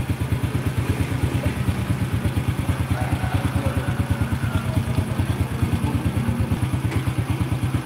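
A Honda Supra motorcycle engine, running again after an electrical fault is fixed, idles nearby with a fast, steady, pulsing putter and some mechanical clatter.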